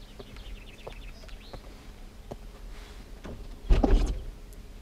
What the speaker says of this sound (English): It has soft closing doors.